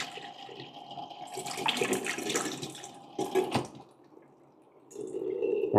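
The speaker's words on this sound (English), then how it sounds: "Then I will rinse it with water." Hot water is poured to rinse a paper filter in a Hario V60 dripper, giving close splashing and trickling in two bursts, then draining drips and a final pour.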